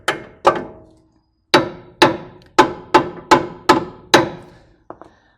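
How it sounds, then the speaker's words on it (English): A hammer taps a front strut on a 2006-2017 Toyota Tundra back into position: about ten sharp, ringing metal strikes up close, two quick ones, a pause, then a steady run of evenly spaced blows and two lighter final taps. "I'm going to grab my hammer again and tap this guy back into position."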